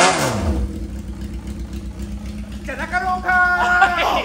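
A Yamaha XJ motorcycle fitted with an aftermarket Ikazuchi muffler idles with a low, steady throb, with people talking and exclaiming over it.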